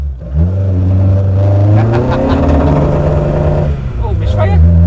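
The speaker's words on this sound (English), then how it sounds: "Oh, misfire." A Ford Anglia fitted with a Pinto engine revs loudly up close, the engine note rising and wavering unevenly with a misfire, while people talk over it.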